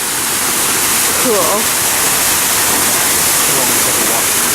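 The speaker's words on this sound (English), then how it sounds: "Ooh, it's a big waterfall." A big waterfall roars in a loud, steady, broadband rush that fills the whole stretch, with a person's short remark barely audible over it.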